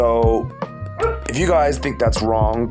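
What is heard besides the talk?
dog barking in the background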